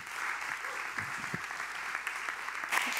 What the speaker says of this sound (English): So please give a warm FITC round of applause for Emilie Baltz.